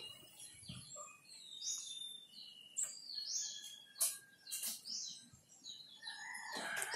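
Birds chirp and tweet in short scattered calls, some close and sharp, others fainter, over a quiet outdoor background.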